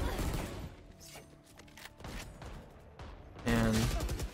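Bulldog rifle gunfire in the shooter Valorant crackles in rapid bursts over game sounds and mechanical clicks, ending in a louder sustained volley.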